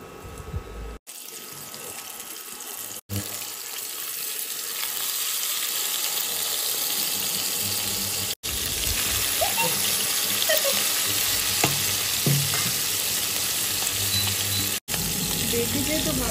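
Green chillies sizzle steadily in hot oil in a pan for a hilsa fish curry, a continuous close hiss with some clatter from the pan, and a voice talks quietly underneath.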